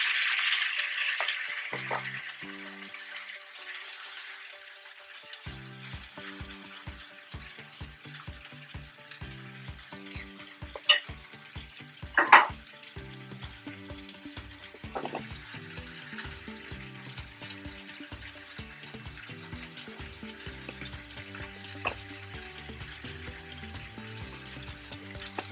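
Duck sausage sizzling in a pan with potatoes and fine herbs, a steady crackling fry with faint scraping and a few brief sharp clinks, no talk.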